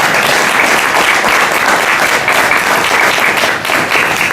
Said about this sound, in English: Please give a huge round of applause for all 6 of our candidates that are here this morning.